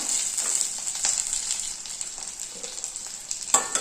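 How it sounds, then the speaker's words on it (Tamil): Grated coconut and onion frying in a pan for fish curry masala, a continuous close hissing sizzle with occasional scrapes and one sharper clatter near the end. "நல்ல தேங்காயும் வெங்காயமும் கொஞ்சம் ப்ரௌன் கலர் வர வரைக்கும் வறுத்து எடுத்துக்கலாம்"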